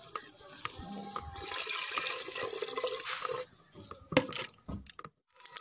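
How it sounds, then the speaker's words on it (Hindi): A cooking pot of water at a full rolling boil for daal chana kofte, a steady bubbling, hissing wash that fills the clip, with a few clinks and knocks near the end. "ये आप देख सकते हैं पानी को अच्छे से उबाल आ चुका है"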